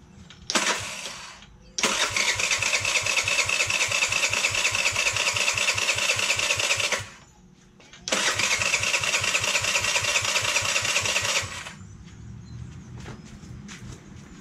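A carbureted GY6 scooter engine cranks and fires, with a brief starter burst followed by two long, loud stretches of steady rough running separated by a short pause, then a fainter idle at the end.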